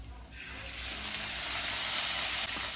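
Ten to fifteen small onions dropped into hot groundnut oil, a sudden loud sizzling hiss that swells and holds steady, close and with no talk over it.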